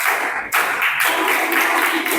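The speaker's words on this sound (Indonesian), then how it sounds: "Ustadz minta tepuk konsentrasi." Schoolchildren in a classroom do a rhythmic concentration clap led by their teacher, a dense burst of many hands clapping together that carries steadily after a brief pause, close and fairly loud.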